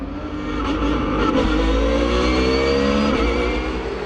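Race cars at Val de Vienne accelerating together through a rolling start, a loud dense engine roar that builds in the first half second and then holds steady with layered rising revs from several cars close by.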